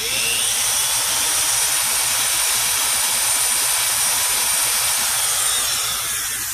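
A drill bores a 2-inch hole through a steel beam for a narrowed VW Bus front beam, giving a loud, continuous high whine that holds steady throughout with no pauses.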